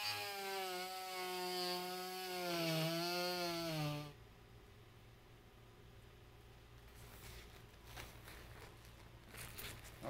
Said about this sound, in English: Now we can cut it out. We'll cut it out close to our trim line.